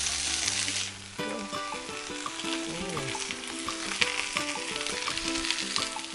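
Pieces of tender beef with bone marrow sizzle on a hot plate for sizzling bulalo, a steady close hiss running throughout beneath background music.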